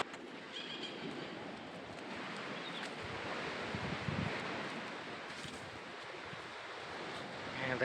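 Broad, steady wash of ocean waves rolling onto a tree-lined beach on Neil Island in the Andaman Islands at high tide, a continuous surging roar with slight swells and no voices.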